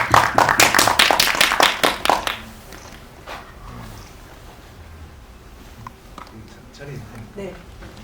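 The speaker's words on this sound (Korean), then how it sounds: "박수 부탁드립니다." Audience applause at a Korean film press screening and press conference as the director and an actor are called up; a loud burst of clapping for about two seconds, then it dies away into quiet room noise.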